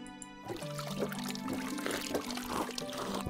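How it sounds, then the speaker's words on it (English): Water is drunk from a bucket in the medieval survival game Medieval Dynasty, heard as a steady pouring, trickling splash over a low tonal background. "have a drink of water"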